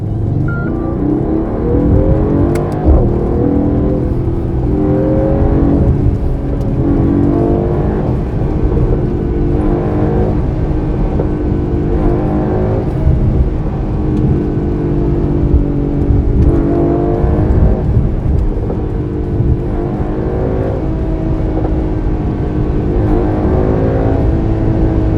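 A Mercedes-AMG GT 43 4-Door in Sport Plus mode with manual shifting roars loudly and continuously, its engine note climbing through revs in second gear and the exhaust dropping back at each shift, close up and unbroken throughout.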